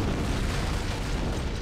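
A loud antimatter charge explosion aboard a starship in the Halo video game, a sustained deep booming rumble that fills the short stretch with no pause, heavy low end and no voices over it.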